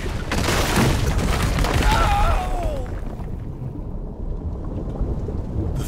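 Thunder effect in the mobile game Dynasty Legends 2, a loud rumbling crash with a rain-like hiss that builds for the first few seconds and then settles into a steady low roar.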